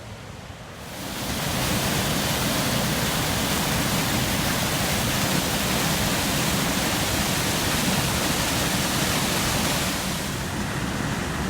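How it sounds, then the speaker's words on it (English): Water thundering through old sluice gates on the River Weaver, a loud, dense, continuous roar swelling up after a quieter start and holding steady throughout. "Old school engineering here, basically sluice gates, so to try and control the flow of the water."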